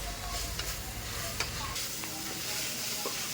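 Ginger-garlic spice paste sautés in a pan for beef vindaloo, a soft continuous sizzle with faint stirring scrapes and small clicks, fairly quiet and close, with no talk over it.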